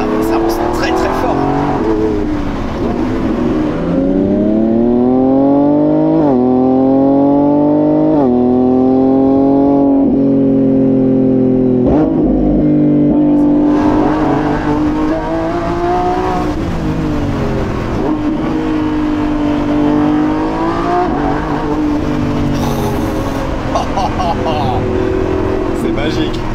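A Lamborghini Revuelto, a 1015 hp V12 hybrid with four-wheel steering, accelerates hard with a loud, continuous engine roar that climbs in pitch through repeated gear changes, heard close from the cabin.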